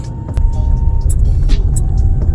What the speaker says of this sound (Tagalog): traffic dito sa Jupiter Street na to dun sa may Congressional